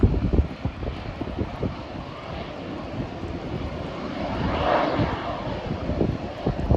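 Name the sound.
Plane Sense airplane arriving at Burlington airport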